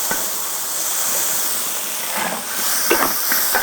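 Half a can of beer poured into a wok of braising chicken feet with star anise, cinnamon, dried chilies and soy sauce, a loud steady fizzing hiss with a few small pops and sizzles.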